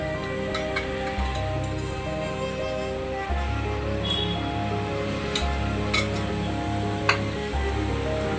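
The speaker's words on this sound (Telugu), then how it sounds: "ఆయిల్ వేడెక్కాక ఆవాలు ఒక టీ స్పూన్ జీలకర్ర ఒక టీ స్పూన్" Mustard seeds and cumin sizzling in hot oil in a pan, a steady crackling hiss with faint clinks of utensils, close and continuous without speech.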